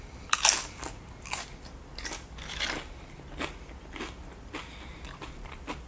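Close, crisp crunches of someone biting into and chewing animal style nacho chips with sweet grilled onions, a sharp bite near the start and then repeated crackly chews in an irregular rhythm, with no talking.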